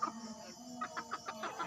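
Chickens clucking in a series of short, repeated calls, moderately close and fairly quiet, while chicken feed of boiled papaya leaves and bran is being stirred.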